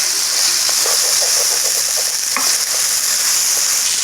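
Mash dal (urad lentils) roasting in a pan, a loud steady sizzle with scraping stirs and a spoon knock partway through.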